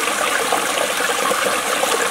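Water flows steadily at a waterside on a farm in Liberia, a continuous bright rushing trickle, close and even, with no talk over it.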